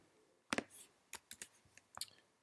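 Several keystrokes tapped on a computer keyboard while entering a number into a running program, a few sharp clicks spaced irregularly over two seconds, close and fairly quiet with no talking.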